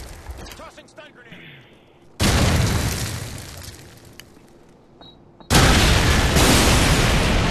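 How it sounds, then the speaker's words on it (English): A stun grenade detonates in a multiplayer search-and-destroy shooter match, two loud broadband blasts a few seconds apart, each with a lingering ringing wash, over quieter game ambience. "Tossing stun grenade!"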